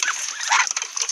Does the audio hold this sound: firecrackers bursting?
no